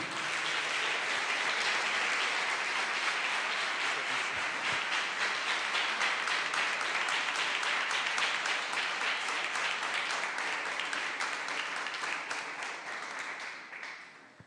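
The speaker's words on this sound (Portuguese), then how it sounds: "ceber o missionário Albert em nome de Jesus, aplaudindo o nome do Senhor" A church congregation applauds steadily to welcome a visiting missionary during an evening service, a dense, sustained wash of clapping lasting about fourteen seconds before tapering off at the end.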